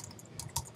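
A few keystrokes tapped on a computer keyboard, faint at first and then two sharper clicks close together near the end, with no talking.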